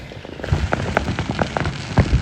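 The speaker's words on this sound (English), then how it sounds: "So I'm watching these fireworks right now." Fireworks exploding at a distance, a scattered series of sharp pops and crackles over a faint background hiss, irregular in rhythm and moderately loud.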